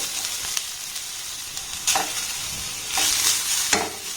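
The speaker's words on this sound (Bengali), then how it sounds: "আলুটা দিয়ে আবার এটাকে আমি একটু নাড়াচাড়া করে ভেজে নেব" Grated raw potato sizzles and fries in a pan while being stirred, with soft scraping strokes recurring every second or so over a steady frying hiss.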